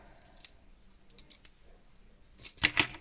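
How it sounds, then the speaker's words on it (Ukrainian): Scissors cutting plastic cable ties on an LED garland: a quiet stretch of light clicks builds to two or three sharp, close snips near the end. "Так, зараз ці стяжки перерізати треба."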